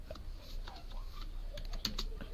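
Text is typed into Microsoft Word on a computer keyboard as a run of uneven key clicks, with a slightly louder cluster of strikes near the end and a low background hum.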